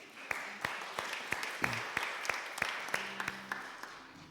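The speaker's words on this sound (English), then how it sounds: "Let's give them a round of applause." Church congregation applauding volunteers on stage with sparse, scattered claps, individual hand claps standing out in a loose uneven rhythm rather than a full ovation, with faint voices underneath.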